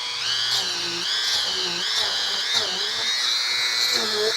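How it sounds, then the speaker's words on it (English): A Dremel rotary tool grinds grooves into the plastic of a Sharp PC-8800 laptop hinge, giving a high, steady whine that dips and rises in pitch under load while a person talks over it. "take my Dremel tool and create a few grooves along the plastic of the bottom of the hinge here"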